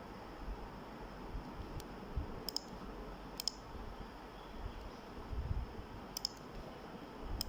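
A computer mouse gives a handful of faint, sharp clicks, some in quick pairs and spaced irregularly, over a low background hiss.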